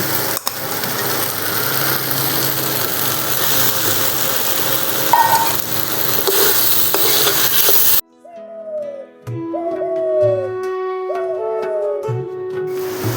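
Chicken paste seasoned with ground black pepper, stirred into spices frying in a pan: a continuous sizzle with scraping stirs for several seconds, then it cuts off and gives way to background music.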